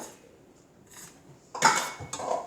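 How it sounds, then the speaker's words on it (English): Dry play dough ingredients are stirred in a pan, giving a few soft scraping and clinking sounds of a utensil against the pan that grow louder toward the end. "Stir all that up."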